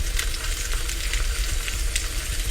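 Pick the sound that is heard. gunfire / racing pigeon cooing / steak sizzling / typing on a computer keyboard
steak sizzling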